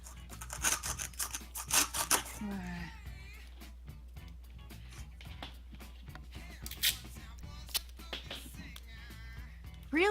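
Scissors cut through material, with repeated sharp snipping clusters near the start and again later, close and clear, separated by softer rustling and handling sounds.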